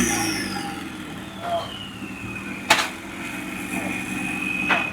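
A race car engine at the Indian Racing Festival runs after being switched on, holding a steady, thin whining drone that slowly falls in pitch, broken by a few sharp clicks over faint background bustle.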